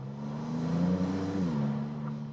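Maserati MCPura V6 in open-top driving, accelerating uphill, a steady, close engine drone that climbs in pitch partway through and then holds.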